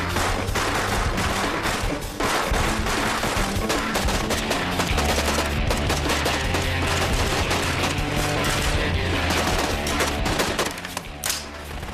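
A SABR rifle fires rapid, dense bursts of shots that run continuously and loudly throughout, with no speech.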